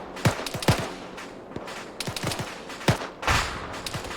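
Arma 3 gunfire rings out in scattered single shots and short bursts, some sharp and close, others more distant, with no voices in between.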